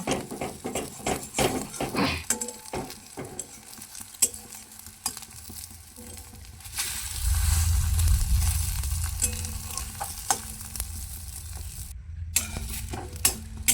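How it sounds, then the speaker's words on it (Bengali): An egg fries in oil in a kadai, a sequence of sharp spatula scrapes and taps as it is turned, then a louder swelling sizzle that settles into a steady crackle. "ডিমটা আমি উল্টে পাল্টে ভেজে নেব।"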